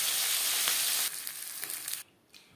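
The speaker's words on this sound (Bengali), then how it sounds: "পরের মাছ একইভাবে ভেজে নেব।" Khoira fish fries in a small amount of oil, giving a dense, bright sizzle that eases partway through and then drops to a faint crackle.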